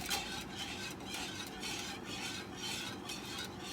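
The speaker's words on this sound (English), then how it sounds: "Whisk that continuously for 5 minutes until it thickens right up." Whisk scraping and stirring custard in a pan on medium heat, a soft rhythmic swishing with faint regular strokes, quiet and close, no talk.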